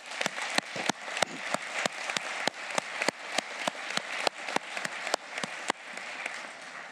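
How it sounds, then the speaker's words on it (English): Rhythmic, evenly spaced claps ring out at a plenary session of a meeting, a steady beat of sharp slaps that lasts for several seconds at moderate loudness with no talk. "both of them, they deserve a good round of applause"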